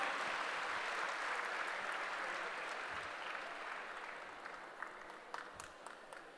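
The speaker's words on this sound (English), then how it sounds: "So please give them a huge round of applause." An audience applauds the jury at a technical session of a chartered accountants' conference, steady broadband clapping that holds strong before gradually thinning and fading over several seconds, with a few scattered late claps.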